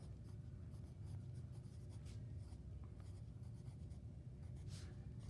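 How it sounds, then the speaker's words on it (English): Writing on paper in a sketchbook, soft close scratchy strokes in quick bursts, fairly faint and alone. "So I'm gonna write down charcoal."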